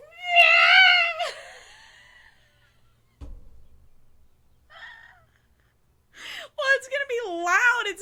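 A person's voice imitates a cat's screech, with drawn-out wavering yowls near the start and end, separated by quiet gaps and a thump.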